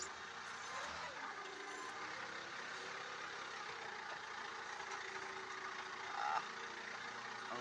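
A forklift engine idles at close range with a steady mid-pitched rumble, joined by faint background noises and a brief sharper sound near the end; no clear speech.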